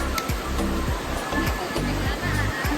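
Rushing water roars steadily at a waterfall during a rafting trip, a loud, dense wash that never lets up, with faint voices and low thumps mixed underneath.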